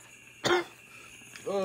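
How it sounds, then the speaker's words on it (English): A single short, sharp cough, fairly close, followed by quiet room tone and the start of a voice. "I just don't know how you guys are coughing from that"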